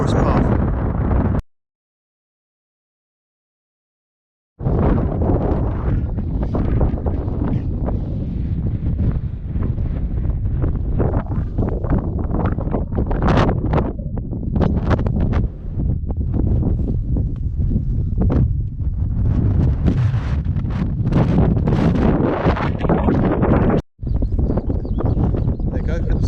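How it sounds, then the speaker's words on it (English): Strong wind buffets the microphone near a mountain summit on Pen Cerrig Calch's east face, a loud, continuous roar with gusting surges that runs almost the whole time apart from a short silent gap near the start. "It's getting really windy now"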